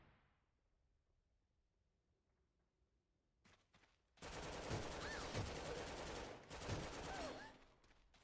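Rifle fire in the shooter game AVA Global erupts after a quiet stretch and a few isolated shots, becoming a loud, sustained automatic spray that runs for about four seconds.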